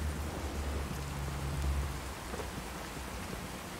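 Steady rain falls in the post-apocalyptic game Fallout 4, a soft continuous hiss with a low rumble in the first half, heard alone at a gentle level.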